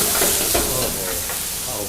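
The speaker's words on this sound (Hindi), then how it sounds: "अभी मिर्ची और प्याज डाल रहे हैं, टमाटर वगैरह।" Chillies and onions fry and sizzle loudly in a hot pan at a roadside truck drivers' dhaba, with stirring scrapes close up and a constant hiss throughout.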